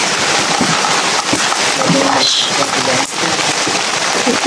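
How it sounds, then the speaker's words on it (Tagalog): Heavy rain pours steadily in a dense, loud hiss, with a low rumble of sea waves beneath; no clear speech stands out. "Ito yung ang sarap ng tunog ng ulan saka ng dagat all together"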